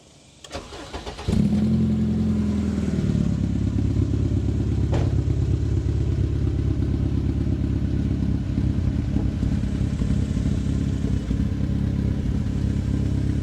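A K-swapped 1997 Acura Integra Type R with cams and a 3-inch exhaust cranks, fires and settles into a loud, steady, slightly lumpy idle heard up close, with no talk.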